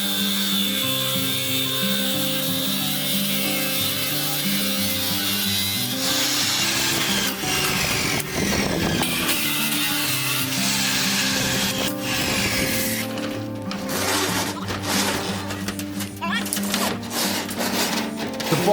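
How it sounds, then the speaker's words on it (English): Steel reinforcing bars cut to length at a building site, a loud continuous grinding and rasping that shifts pitch, later broken by sharp metallic clanks, heard up close with a voice talking over it. "The steel bars are cut into predetermined lengths."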